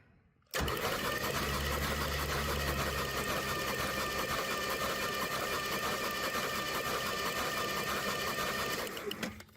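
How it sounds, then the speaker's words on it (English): A Chevelle engine cranks over on the starter during a spark test, a steady, loud mechanical whir that starts abruptly and runs unbroken for about nine seconds before tapering off at the end. "So I'm gonna crank it over and you're gonna watch that sparkulator there"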